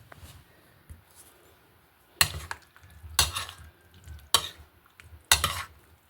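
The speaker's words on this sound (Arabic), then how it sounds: "وهنقلبها" Spoon scraping and clinking against a bowl while mango cubes are stirred with white honey syrup, four sharp knocks spaced about a second apart over soft wet shuffling, close and clear.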